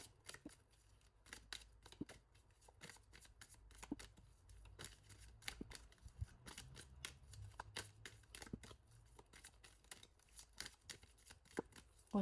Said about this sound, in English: Let's get them back and continue shuffling.